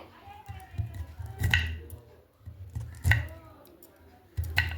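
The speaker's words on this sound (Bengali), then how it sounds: "তো একটু মিহি মিহি করে কেটে নিচ্ছি।" A knife chops cauliflower florets finely on a board in a home kitchen, giving three sharp, evenly spaced thuds over a low murmur, with a person talking throughout.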